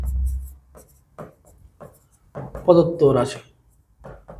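A pen scratches out an algebraic expression on paper in short, close strokes with pauses between them, and a voice speaks over the middle of the writing.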